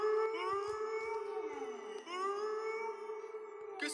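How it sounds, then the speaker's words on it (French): A big bad wolf from a French fairy tale howls in one long, loud, wavering cry that dips and rises again, held for about four seconds with no talk over it. "Je crois que c'est le grand méchant loup. C'est comme ça qu'il hurle."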